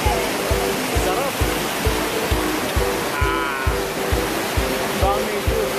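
Taytay Falls in Majayjay, Laguna, pours down as a steady, loud roar of falling water close to the plunge pool, with rhythmic thumping bumps underneath and brief voices mixed into the rush.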